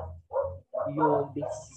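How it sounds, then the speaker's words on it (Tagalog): A dog barks in a few quick yips close by, and a person's speech runs over them. "may tumatahol po. Tumatahol siya."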